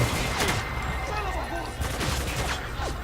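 Rapid bursts of gunfire in the video game Spec Ops: The Line crackle continuously over a dense, busy background, with a voice talking underneath at times.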